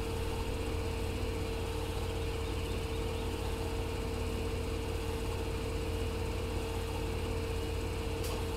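A tractor engine idles in the Farming Simulator 17 video game, a steady low droning hum with a constant tone that stays even and unbroken throughout, with no talk.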